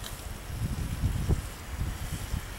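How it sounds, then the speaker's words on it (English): Wind blowing outdoors beside a sawdust rocket stove: soft, uneven gusts buffet the microphone with low rumbling puffs that swell and fade over a faint, steady background. "The wind's blowing pretty good"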